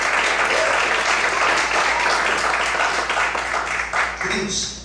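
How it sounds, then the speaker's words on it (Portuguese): A church congregation bursts into loud sustained applause during a morning service, steady clapping that fades slightly toward the end. "aplaudir o Senhor bem forte nessa manhã."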